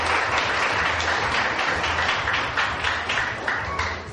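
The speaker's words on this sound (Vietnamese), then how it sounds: "Xin một tràng pháo tay để." Dense, steady round of applause from a crowd at an official visit to an orphanage in Binh Duong, Vietnam, continuous clapping throughout.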